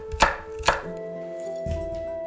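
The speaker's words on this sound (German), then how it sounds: "Knoblauchzehen grob schneiden, halbe Zwiebel in Streifen schneiden." A knife cuts garlic cloves and onion on a board, two crisp close chops followed by quieter slicing, with a faint background hum and no talk.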